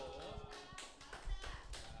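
A short burst of clapping from a small church congregation, uneven and close, with a few louder hand slaps and scattered movement noise.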